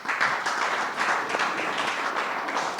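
An audience at a talk on bean crop research and food security breaks into sustained applause: dense, even clapping from many hands, steady and fairly loud throughout with no talk over it.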